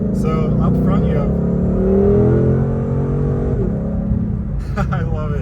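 A Shelby GT500 Mustang's engine rumbles loudly and revs, its pitch climbing and then stepping down as it downshifts, with people talking over it at the start and end.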